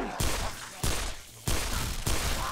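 A modded weapon fires in the video game Dead Island Riptide: four sharp bursts of gunfire at close range, spaced roughly half a second apart.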